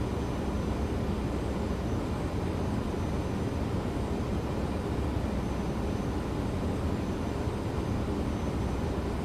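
Boeing 737 on approach in the X-Plane 12 flight simulator: a constant, broadband engine and airflow roar, steady and unbroken throughout, with no voices.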